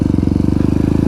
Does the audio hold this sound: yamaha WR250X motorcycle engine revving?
yes